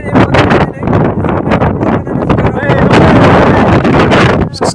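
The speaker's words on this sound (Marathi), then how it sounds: "आता आम्ही तिकडे आवाज येणार नाही, वारं इतकं आहे" Strong wind buffets the microphone outdoors on a trip to Lonavla, a loud continuous roar with gusty swells that nearly buries the talking voices underneath.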